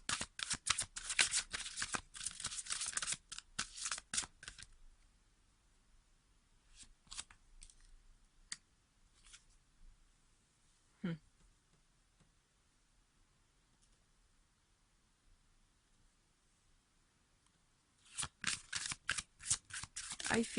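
Tarot cards being shuffled for clarifier draws, with loud dense riffling bursts at the start and again near the end, a few faint clicks between, and a stretch of near quiet in the middle.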